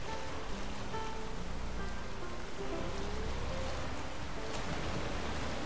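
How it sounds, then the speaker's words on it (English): Steady watery splashing and rushing, like heavy rain or churning water, continuous and fairly soft throughout, from something splashing in water beside a boat in the video game The Witcher 3: Wild Hunt. "Something splashing in the water."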